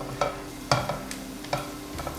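Ghee being stirred into jackfruit seed payasam in a pot, a few soft scraping strokes with faint bubbling sizzle underneath, close and fairly quiet with no talking.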